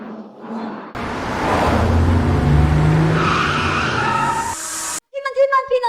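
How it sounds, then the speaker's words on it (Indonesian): A car in a game tears away with loud screeching, skidding tires and a revving engine for several seconds, followed by a sudden cut to a voice speaking. "Semua unit target sudah pergi dengan mobil."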